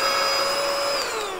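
A budget portable vacuum cleaner runs steadily with a close, high-pitched motor whine that holds level and then drops slightly in pitch toward the end.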